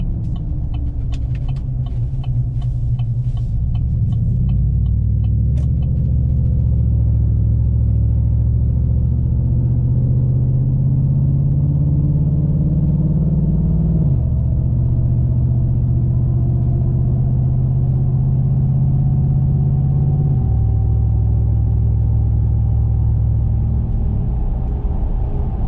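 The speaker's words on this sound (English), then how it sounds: "this is what a normal acceleration sounds like" A car with true dual exhausts accelerates gently, heard from inside as a steady, loud low rumble whose pitch climbs gradually and drops at each gear change, with no talking.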